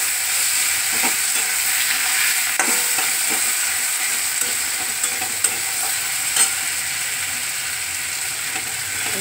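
Onions with salt fry in a pan as Bombay duck fish goes in, a steady close sizzle with spatula scraping and stirring clicks throughout, no talk.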